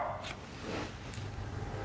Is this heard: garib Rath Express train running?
no